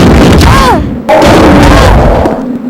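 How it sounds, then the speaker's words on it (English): Explosive rounds fired from a gun in Resident Evil Code: Veronica X, heavy booming blasts with rumbling low end mixed with game sound effects and a screeching creature cry, loud and close. "Alright, first explosive rounds."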